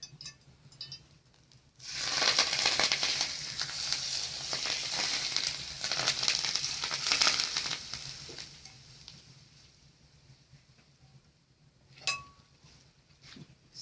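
Oil sizzles loudly in a frying pan for several seconds while making potato köfte, then the crackle fades to a quieter simmer with a faint clink near the end.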